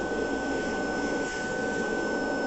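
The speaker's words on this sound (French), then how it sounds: "Et après, hop, on va aspirer tout en tournant" A Tineco vacuum cleaner runs with a clip-on attachment, cleaning its pre-filter while being turned: a steady, loud broadband whoosh of suction with a thin high whine held throughout, close up and uninterrupted.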